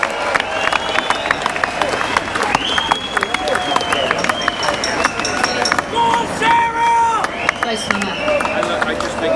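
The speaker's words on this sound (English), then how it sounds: "let's have a round of applause for the brave lady that has not backed down" A crowd at a street protest claps for a woman, a dense, continuous patter of many hands close by, with voices calling out over the applause.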